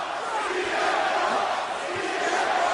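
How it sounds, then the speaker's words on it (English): A large crowd in the video game WWE 2K roars and chants continuously in the distance, a dense, steady wash of many voices with no clear individual words. "is that crowd chanting out there?"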